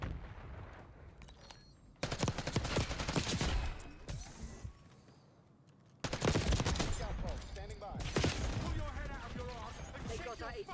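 Automatic gunfire and explosive bursts in the Call of Duty Black Ops 6 video game, loud, dense volleys in two main stretches with quieter gaps between, voices talking underneath.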